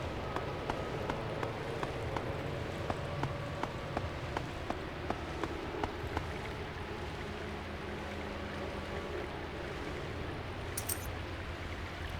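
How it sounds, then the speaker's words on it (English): Steady rain falls in the video game Siren, a soft continuous patter of drops with faint scattered ticks, heard alone and fairly quiet throughout. "It's already raining outside."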